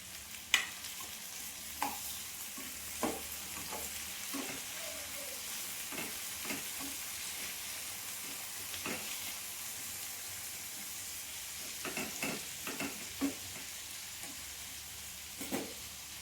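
Tomatoes frying with browned onions in a pan, a soft continuous sizzle with occasional scraping stirs and light utensil taps, fairly quiet and close, no voices.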